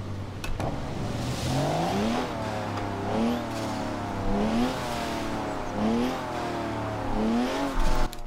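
A BMW Z4 engine revs repeatedly in a video game, each climbing pitch sweep followed by a shift, with turbo-like whoosh and a steady hum between pulls.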